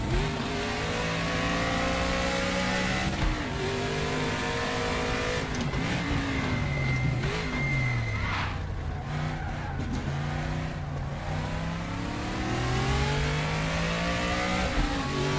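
A race car engine in a racing video game revs hard through gear shifts, including one botched shift, with rising and falling tones, brief tire squeal and a continuous loud roar.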